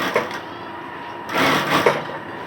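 A sewing machine stitching cloth for palazzo trousers gives a steady close mechanical whir that swells briefly louder in the middle, with no talking.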